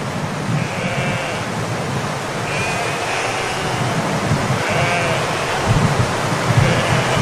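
A herd of goats bleats on a steep, dry mountain path leading down to water, several calls rising out of a steady rushing outdoor background, moderately near and without talk.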